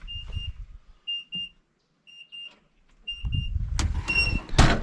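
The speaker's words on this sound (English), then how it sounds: "Oh, my alarm's going off." An electronic alarm beeps in short repeated double pulses with pauses between them, then clattering and rustling noise takes over near the end.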